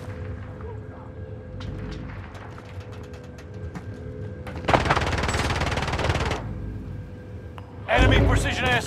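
Bursts of automatic gunfire in Call of Duty: Modern Warfare, two loud rapid volleys with mechanical clicks between, while players talk over the game sounds.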